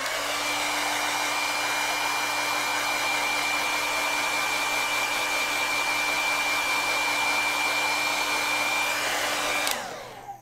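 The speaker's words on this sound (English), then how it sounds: "so I'm going to use the hairdryer." A hair dryer drying acrylic paint roars loud and steady at close range for about ten seconds, then winds down abruptly as it shuts off, with no talking.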